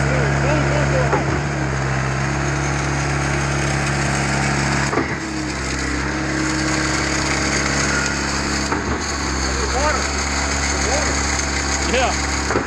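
A Schwing BPA500 concrete pump runs steadily with a loud, continuous engine drone and a mechanical hum, holding level throughout with brief dips, while people talk over it.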